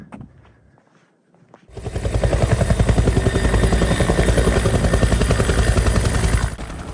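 A US Air Force UH-1N Huey helicopter's rotor thumps in fast, steady chop after a quiet opening, loud and close, holding for several seconds before cutting off.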